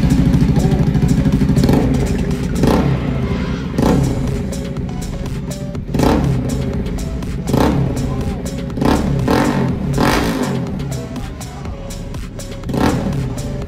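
Bajaj Pulsar NS200 motorcycle fitted with a loud Akrapovic exhaust, revving hard in repeated bursts with a rough, continuous engine roar between throttle blips, close and loud.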